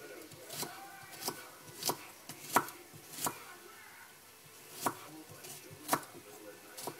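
A knife chops another onion on a cutting board while cooking stir-fry, with crisp, close knocks about once a second and a few lighter taps between them.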